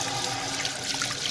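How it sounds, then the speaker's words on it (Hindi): Water pours into a cooking pot while jaggery rice is made, a brief steady splashing gush that fills the whole short moment, with no voices. "हम इसमें ये सारे का सारा पानी शामिल करते हैं।"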